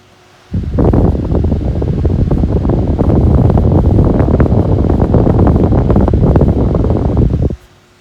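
Kaze Flex PC case fan blowing a steady, focused stream of air, a close broadband whoosh that switches on, holds evenly for about seven seconds, then cuts off.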